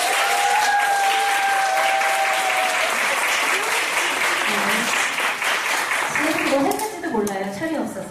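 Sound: applause for the children's choir

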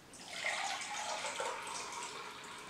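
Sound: water poured into a measuring cup

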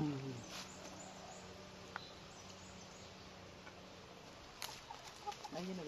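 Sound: hen clucking

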